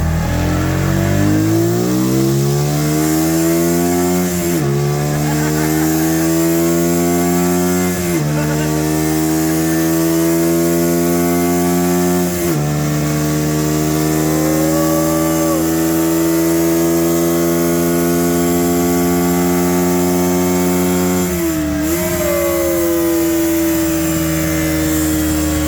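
Keeway motorcycle engine with a carburetor undergoing air-fuel ratio tuning, revving repeatedly in steady rising sweeps that drop back between pulls, loud and close for the whole stretch with a constant hum beneath.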